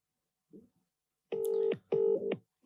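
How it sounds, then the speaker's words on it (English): Touch-tone telephone dialing on a speakerphone: a faint click, then two loud steady keypad beeps, each about half a second, close and clear. "we're going to give my dad a quick call"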